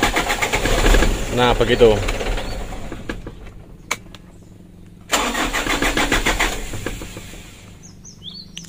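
A starter cranks an engine that is hard to start because of jelly-like oil sludge. The engine catches and runs loudly, cuts out after a few seconds, then is cranked and started again, while someone speaks briefly.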